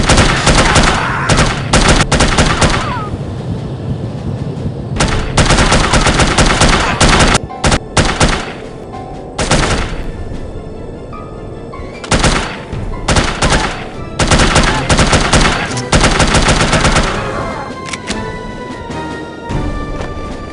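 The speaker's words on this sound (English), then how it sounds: "they were shooting me through this curtain" Repeated bursts of gunfire in the video game No One Lives Forever, including shots fired through a curtain: loud rapid volleys and machine-gun strings separated by short pauses, with brief quieter gaps and scattered impacts.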